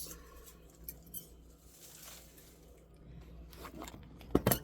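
Cutting through a branch while pruning a bonsai tree in the fall, heard as a few sharp snips and cracks clustered near the end, close and fairly loud over faint background rustle.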